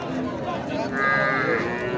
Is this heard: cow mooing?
yes